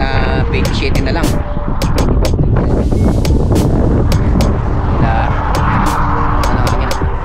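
Loud, continuous wind roar buffeting the microphone while cycling in a paceline on a road ride from Calgary to Drumheller, with scattered sharp clicks and rattles throughout, heavy and unbroken.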